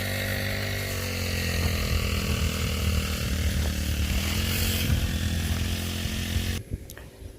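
A motorized grass cutter runs in front of a house, a steady buzzing engine drone held at fairly close range for several seconds before it suddenly cuts out, leaving a faint tail of ambient noise.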